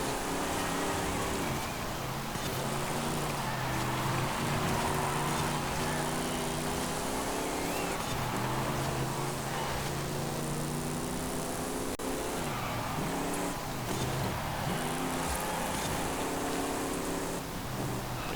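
Nissan Safari Turbo SUV racing in Forza Horizon 5, its engine droning steadily with rising and falling revs through gear changes over a constant dense roar, no talk.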